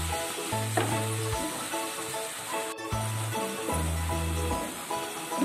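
Grated carrot cooking with sugar for carrot ladoo bubbles and sizzles softly in a pan, with scraping stirs and intermittent tonal hums in the background, no speech.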